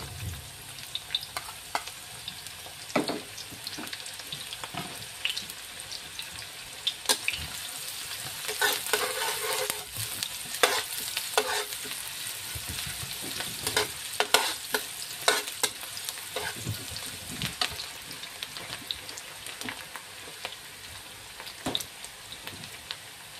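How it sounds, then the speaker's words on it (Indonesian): Shallots (bawang merah) fry and get stirred in hot oil in a home kitchen, a steady close sizzle with irregular scraping stirs and sharp crackles throughout, no voices. "Oke guys, minyaknya udah panas, kita masukkan bawang merah ya."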